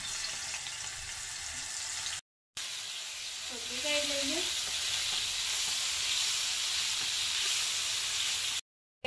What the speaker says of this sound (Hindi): अब हम इसमें ऐड कर देंगे अदरक लहसुन का पेस्ट